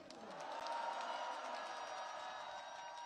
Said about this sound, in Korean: 여기 부모님들과 함께하고 있는 어린 아이들에게 희망과 환영의 박수 부탁드립니다